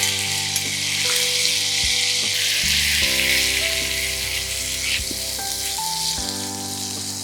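Onion paste frying in a pan for an Awadhi chicken korma, giving a steady loud sizzle throughout with a few soft stirring scrapes and tonal hum underneath, and no talking.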